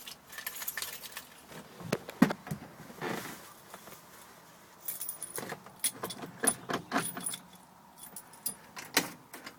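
Keys jangle and clink in bursts while someone hunts for car keys after climbing into an old vehicle, close and fairly quiet, with rustling and shuffling between clusters.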